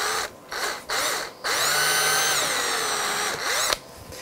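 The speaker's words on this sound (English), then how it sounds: "it's just a case of drilling a nice little hole with a good quality" A power drill bores a small hole with a brad point bit during an electric guitar build, its whine rising and falling in several short bursts before one long steady run, close and loud with no talk.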